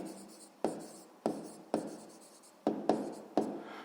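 A pen writes a math answer on paper in short quick strokes, seven or so scratchy bursts in an uneven rhythm, close and fairly quiet with no talking.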